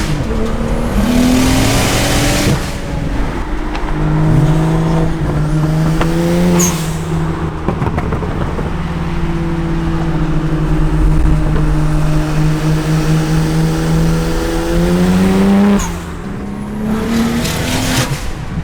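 A BMW 335i fitted with 17T turbos pulls hard in second gear with traction control off, its engine note climbing loudly in repeated rising sweeps, easing briefly and then revving up again, with no talking.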